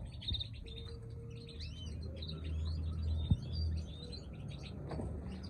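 Caged birds in an aviary chirp and twitter in quick, overlapping bursts over a low background hum, with one sharp thump partway through.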